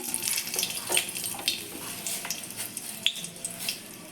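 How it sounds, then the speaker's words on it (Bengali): Dry red chili frying in hot mustard oil in a wok, a soft steady sizzle with scattered light crackles and pops throughout, moderately quiet and close. "কড়াইয়ের মধ্যে অল্প করে সর্ষের তেল দিয়ে নিয়েছি তেলটা গরম হয়ে গেছে এবার একটা শুকনো লঙ্কা"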